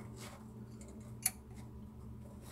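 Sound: cutting a plastic lock nut under a sink

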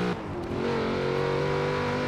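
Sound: Corvette C4 engine revving in video game Forza Horizon 4

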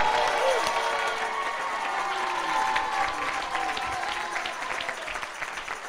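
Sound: church congregation applauding

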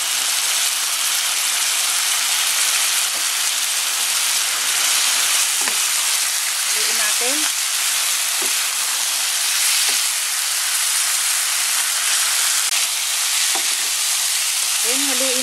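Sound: pork binagoongan sizzling and stirred in a pan

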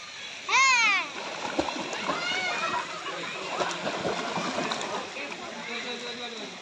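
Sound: gurgling clear stream water

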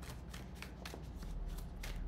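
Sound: shuffling tarot cards

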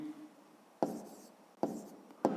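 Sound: writing math exercise on paper

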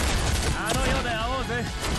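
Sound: gunfire from the Ranger's guns in the video game DNF Duel

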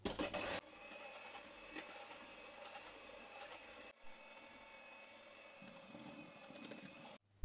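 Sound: electric mixer beating cake batter with vanilla sugar

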